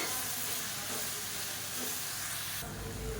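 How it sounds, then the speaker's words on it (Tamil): Mint and coriander leaves sautéing in a pan for pudina chutney, a steady close sizzle and hiss with a brief stirring scrape and a louder burst of frying near the end. "இந்த இலை வந்து சுருங்குற அளவுக்கு வதக்கினா போதும்"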